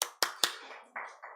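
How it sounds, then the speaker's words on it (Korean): Church congregation at a Sunday worship service clapping in short bursts: several sharp, separate claps, then softer overlapping rounds of applause, fairly close and without talk. "박수 한번."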